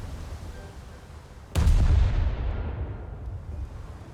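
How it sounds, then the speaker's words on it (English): A warship's guns in a naval combat video game, the heavy cruiser Furutaka, fire high-explosive shells in one sudden loud boom that rolls off into a long, fading rumble. "Did I mention we're firing high explosive?"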